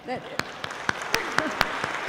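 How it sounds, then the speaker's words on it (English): An audience applauds performers at an International Women's Day event, with scattered claps of moderate loudness over a faint voice at the start. "I know why you're clapping"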